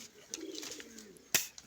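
Pigeons cooing softly close by, a short low rolling coo followed by a sharp click and a faint chirp, quiet overall.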